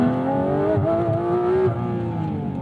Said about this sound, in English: Let's open up this exhaust for you. PDK Sport.